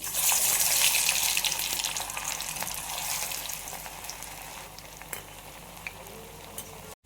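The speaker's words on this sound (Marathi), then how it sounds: "आता आपण तळून घेऊया. हे तेल तापले." Ragda patties made with green peas deep frying in hot oil, a steady broadband sizzle and bubbling that is loudest at the start and gradually settles into a softer, even crackle with a few sharp pops.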